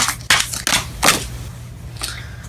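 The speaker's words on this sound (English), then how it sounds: "we're gonna shuffle one more" Tarot cards being shuffled by hand at close range, a few crisp riffling bursts with short pauses between them over a low steady background hum.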